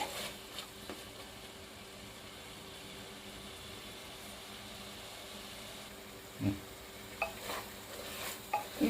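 Chili powder and masala fry in a pan for a Telangana-style spicy mutton curry, a soft, steady sizzle with occasional clinks of a spoon stirring against the pan near the end.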